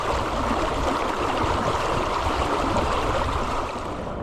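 A small creek where cast-net fishing takes place flows with a steady, close rushing and gurgling that stays loud and even throughout, with no voices.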